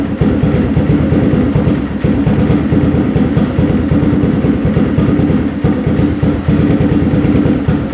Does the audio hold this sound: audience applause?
no